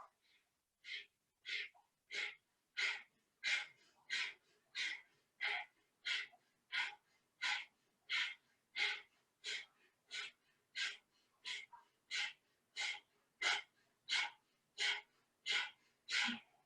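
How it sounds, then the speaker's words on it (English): Forceful exhales from a yoga breathing exercise, about two dozen sharp puffs of air in a fast, steady rhythm, close and alone with no talking. "Inhale through your nose, keep your mouth shut, and then forceful exhale."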